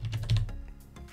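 Quick typing on a computer keyboard while a post is written in the WordPress Divi editor, a close run of light, uneven key clicks with no voice over it.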